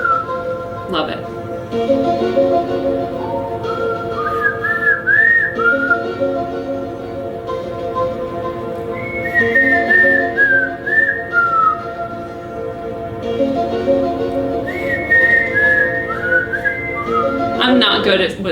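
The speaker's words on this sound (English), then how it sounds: "I'm not good at whistling, but you get the point." Someone whistles the X-Files theme tune, a lilting melody in repeated phrases with rising and falling notes, fairly close, over a faint background hum.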